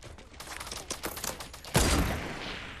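Video game gunfire in a rapid, uneven run of close cracks, ending in one heavier, louder blast that rings out briefly.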